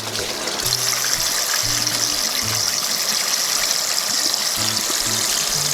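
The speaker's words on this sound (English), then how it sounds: "Jesse's getting his hair shampooed" Running water at a barber's shampoo sink as a man's hair is shampooed, a steady loud rush and splash that continues throughout, with a faint low hum underneath.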